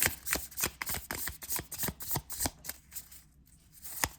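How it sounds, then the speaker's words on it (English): Crisp riffling bursts of a deck of cards being shuffled, repeated in quick rhythmic flutters, close up with no talking. "let me go ahead and shuffle this 3 times"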